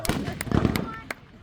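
Fireworks at a July 4th display crackle and pop in several sharp bursts, some louder and nearer than others, with a brief voice mixed in.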